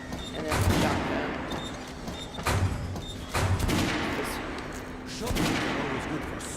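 Shotgun blasts in the Metro Last Light Redux video game: several sharp, booming shots spaced a second or two apart over a low game background, with a person talking alongside.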